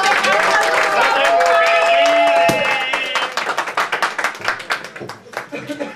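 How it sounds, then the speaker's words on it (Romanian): Wedding guests clap, first a loud blended burst under overlapping voices and some sung or drawn-out tones, then thinning into separate claps that fade toward the end. "Hai să-i aplaudăm!"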